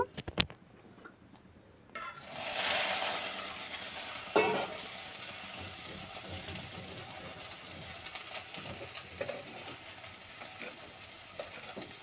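Boiled, drained soybean chunks hit hot oil after a couple of quiet clicks, setting off a sudden loud sizzle that then settles into a steady, softer frying hiss.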